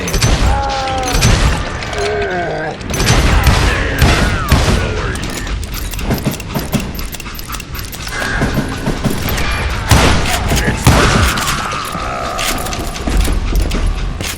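Dense, loud gunfire in the Western shooter Call of Juarez: Gunslinger, rapid shots crackling almost nonstop with booms and thuds mixed in, no clear pause through the whole stretch.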